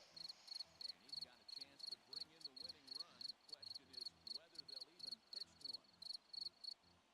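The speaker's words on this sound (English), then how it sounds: "Look at these crickets in here." Regular rapid chirping of crickets in a baseball video game, steady pulsing bursts throughout, with faint commentary voices underneath.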